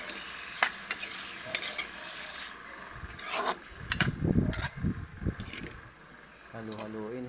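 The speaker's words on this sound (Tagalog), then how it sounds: "Halu-haluin, hintayin muna natin maluto bago natin lagyan ng sabaw." Chicken for tinola being stirred and fried in a pot, with scraping stirs and a steady sizzle building to a busier cluster of clatters midway, and a voice speaking briefly over it near the end.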